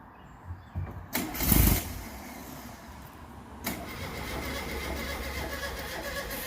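A Baja Bug's engine cranks and briefly catches in a loud burst before dying, followed by a lower rumble, with no talking.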